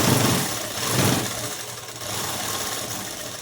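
Electric sewing machine stitching the collar of a dress, a loud, close, steady motor whir with slight swells in pace and no talk.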